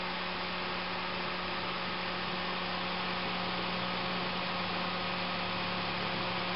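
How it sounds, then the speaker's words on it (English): Radiator cooling fan running on a 1996 Honda VTEC, heard as a steady, even electrical hum with a constant whirring drone that holds level throughout, with no one speaking. "Half the run fan on the passenger side is running."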